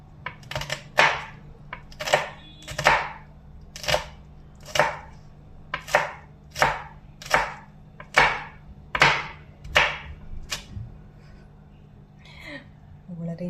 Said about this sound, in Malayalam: വളരെയധികം ശ്രദ്ധിച്ച് കുനുകുന അരിഞ്ഞു.